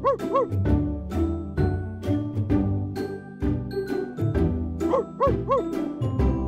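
Cartoon dog in a children's alphabet show barking and yipping: a rapid string of short, high, playful barks with a few whiny rises, close and continuous.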